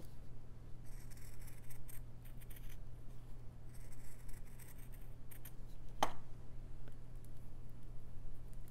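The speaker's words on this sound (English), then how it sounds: "I'll cut out that heart." Scissors snipping out a fabric heart, quiet intermittent clusters of crisp cuts and rustles over a low steady hum, close but faint.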